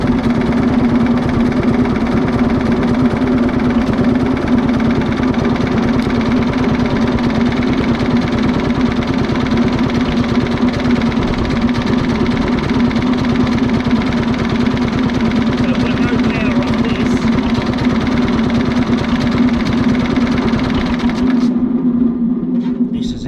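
A Briggs and Stratton engine on a Cheetah ride-on mower runs loud and steady with a constant low drone for over twenty seconds, then cuts out abruptly near the end.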